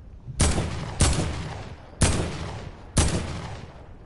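Four loud sniper rifle shots from a video game, each one a sharp crack followed by a rolling echo, fired at uneven intervals of roughly a second with no talking.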